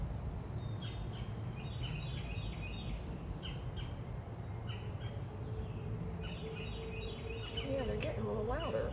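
Crows squawk outdoors in Virginia during a solar eclipse, repeated harsh caws at moderate distance mixed with other bird calls over a steady low background rumble.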